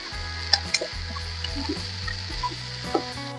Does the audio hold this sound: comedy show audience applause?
no